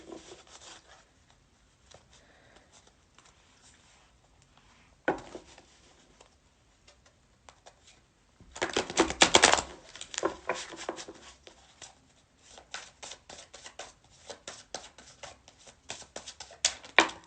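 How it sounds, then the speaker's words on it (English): A deck of tarot cards is shuffled up close at a low level, with soft riffling and rubbing that grows busier and more crackly toward the end. "So I'm just going to shuffle."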